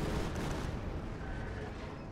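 A Stuka dive bomber strikes in Company of Heroes 2, and a heavy explosive blast rumbles low and loud up front before fading into a long rolling roar of debris and echo.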